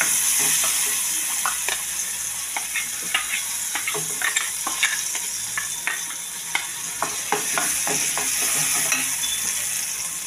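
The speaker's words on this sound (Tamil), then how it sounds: "அரைச்ச இதை அதில் எடுத்து போட்டு அப்படியே கிண்டணும்." Ground curry leaf chutney being stirred in a hot pan with a pinch of asafoetida. Continuous frying sizzle runs throughout, broken by frequent sharp scraping and tapping strokes of a spoon, close and steady with no talk.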